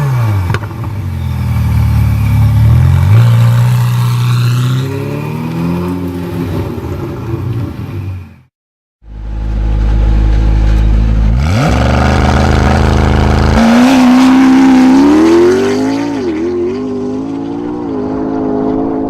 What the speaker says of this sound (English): 3902cc twin turbocharged flat plane crank V8 engine.